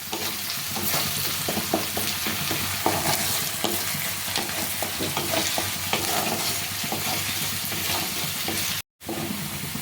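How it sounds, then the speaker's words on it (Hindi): Chopped onion, ginger, garlic and green chilli frying in hot oil while being stirred, a dense, loud continuous sizzle with scraping stir strokes and a brief dropout near the end. "इसे मिक्स कर लेते हैं और इसे कम से कम 3 से 4 मिनट भून लेंगे।"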